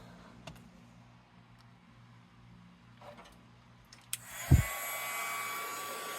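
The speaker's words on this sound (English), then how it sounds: "And our heat tool." A craft heat tool switches on with a sudden loud, steady rushing blow that continues to the end, used to melt embossing powder on a paper pumpkin kit project; a few faint clicks and handling sounds come before it.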